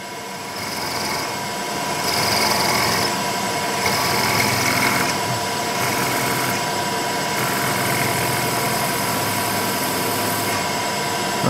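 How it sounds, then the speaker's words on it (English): A machine drills into the center of a worm thrust plate, giving a steady, loud mechanical whir with a high cutting whine that holds throughout with small swells. "then I can go in there and kind of drill it."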